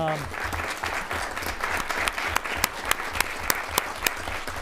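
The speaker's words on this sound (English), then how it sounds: "Let's give these ladies a round of applause" An audience at a city council meeting gives a round of applause for several women, steady clapping with a few sharp, distinct claps standing out near the end, and speech mixed in at the start.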